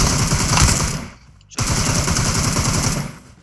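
Rapid automatic gunfire from PUBG Mobile rattles out in dense bursts, breaks off for about half a second, then resumes just as loud and sustained.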